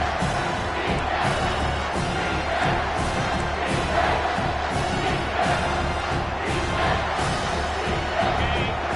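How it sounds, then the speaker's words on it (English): A stadium crowd at a Florida vs Miami football game roars loudly and continuously for the defense, a dense sustained wall of cheering and yelling with no break. "This crowd will blow out a vocal cord to help this defense."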